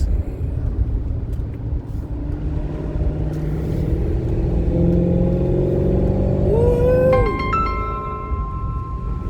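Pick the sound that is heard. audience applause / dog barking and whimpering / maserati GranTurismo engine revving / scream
maserati GranTurismo engine revving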